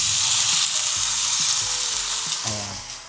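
Meatballs sizzle and fry loudly in a pan, a dense hiss that keeps going, with a few clattering stirs and a slight drop in sizzle toward the end as water goes in.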